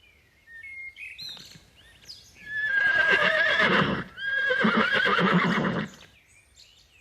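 Horses neighing with long, loud whinnies in two bursts, hooves clip-clopping in between, birds chirping lightly before and after in a peaceful meadow.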